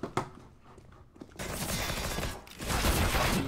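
Gunfire in CS:GO, bursts of rapid weapon fire that start sparse and then swell into sustained, fairly loud automatic shooting, with no talk over it.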